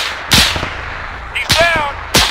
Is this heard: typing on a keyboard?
no